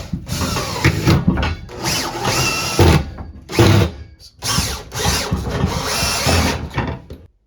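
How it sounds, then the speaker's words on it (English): A power drill drives self-tapping screws through a closet bracket into the closet bar, loud and close, in several bursts of whirring with short pauses between them. "Then you can secure the bracket to the bar with a self-tapping screw."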